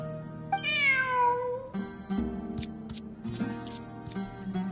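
A cat meows in Genshin Impact, one drawn-out rising-then-falling mew near and clear, followed by softer chirps and game sounds with faint background music.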